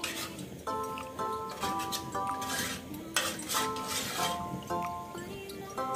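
A metal pot of wheat porridge clinks and clanks as it is set onto a cooking fire, with bright metallic knocks and scrapes repeating close by over steady background noise.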